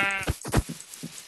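Sheep bleating in the video game Minecraft, several short nasal bleats close together in the first half, then softer trailing calls, heard alone without talk.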